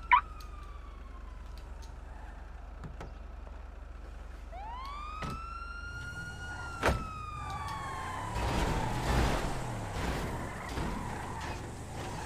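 A police car siren in the GTA V video game wails in a few rising and falling sweeps midway, fairly faint, among scattered clicks and thuds of in-game action.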